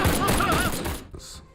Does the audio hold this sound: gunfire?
yes